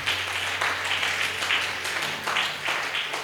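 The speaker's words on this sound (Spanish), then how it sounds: "Dale fuertes palmas de alabanza a Jesús" A church congregation claps loudly in a pulsing rhythm of bursts, a steady beat of palms coming in repeated swells across the few seconds.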